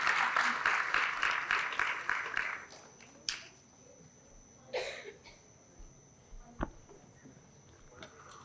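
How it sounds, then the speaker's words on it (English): A crowd at an award ceremony breaks into loud applause that fades after a couple of seconds, leaving a quiet room with a few scattered knocks and coughs. "Can we have a huge round of applause for Supraja, please?"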